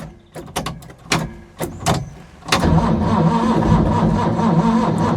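The starter motor of a Ford Capri race car, a barn find that has sat for 20 years, turns over close by. A few separate bursts come first, then the engine cranks steadily and loudly with a weak battery.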